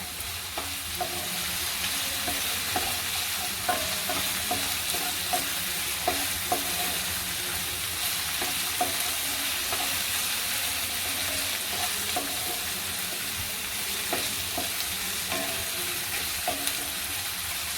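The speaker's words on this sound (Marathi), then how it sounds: "मीडियम गॅसवरती चांगलं परतून घ्यायचा आहे कांदा" Onion sautéing in a pan over medium heat, a constant close sizzle with light, regular taps and scrapes of a spatula stirring throughout.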